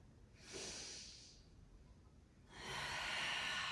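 A deep breath taken while holding a yoga pose, a soft inhale followed after a pause by a longer, louder exhale, close and quiet with no talking.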